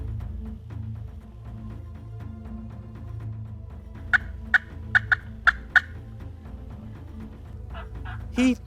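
Wild turkey toms in a large wheat field gobble in a burst of several sharp, rattling calls from a moderate distance, with a low steady rumble beneath and another gobble at the end.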